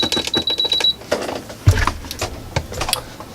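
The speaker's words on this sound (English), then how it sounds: "sew all the way around the two edges" A sewing machine stitches leather-style snap wallet pieces in quick rattling bursts, stopping and starting with small mechanical clicks and handling noises between runs.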